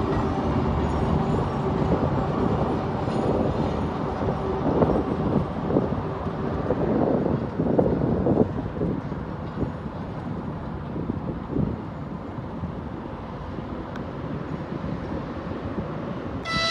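A train rumbles along the rails in Engels with a continuous heavy roar, rhythmic wheel clatter and some wind buffeting, fairly loud and close.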